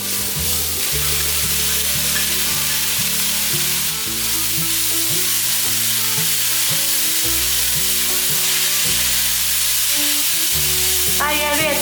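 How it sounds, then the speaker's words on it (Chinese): King oyster mushroom filling is stir-fried in a large wok, with loud continuous sizzling and frying throughout. Music plays steadily underneath. "炒得差不多了，可以把杏鲍菇放进来，"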